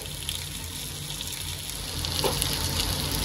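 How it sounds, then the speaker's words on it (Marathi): Stuffed bitter gourds fry in oil on a flat griddle over medium-low heat, giving a steady close sizzle with a faint bubbling crackle and no talking. "आता ह्यांना मी खालच्या साईडनी देखील चांगलं 2 ते 3 मिनिटांपर्यंत चांगलं फ्राय करून घेणार आहे"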